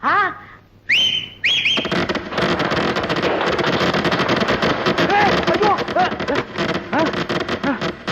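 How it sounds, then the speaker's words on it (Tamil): Whistling firecrackers go off near a crowd at a celebration, with rising shrill whistles early on, then a dense roar of crackling bursts and shouting voices that continues throughout. "என்னடா அது விசில் வேட்டு சத்தமா?"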